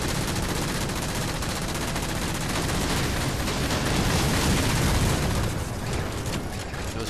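Sustained gunfire in a Halo video game: dense, continuous automatic shooting and blasts filling the whole stretch at close, loud range without a break.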